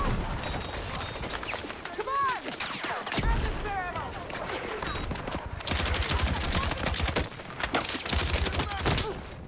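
Gunfire in a live-streamed shooter video game, including a sniper shot, forms a dense, continuous barrage of rapid shots and bursts. It fills the whole stretch, with brief voice fragments over it.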